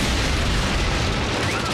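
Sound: gunfire and explosion in Transformers Prime cartoon

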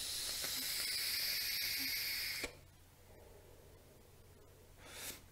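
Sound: vaping a Youde Zephyrus V2 tank

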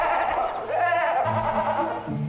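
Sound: goat bleating in the video game Far Cry 3

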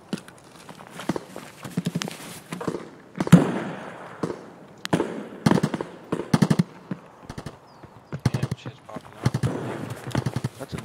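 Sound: weapon gunfire in a video game

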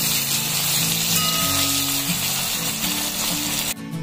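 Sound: tomatoes sizzling while frying for Amritsari paneer bhurji

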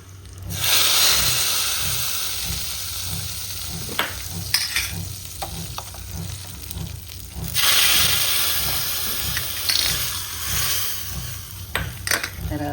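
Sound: cumin and green chillies sizzling in hot oil tempering

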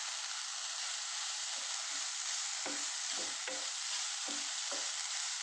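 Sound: stirring chembu stem thoran with coconut in pan

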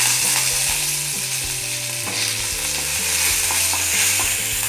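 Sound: tempering dals and spices frying in sesame oil in a pan

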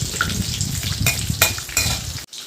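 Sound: onions and green chillies frying in a pan

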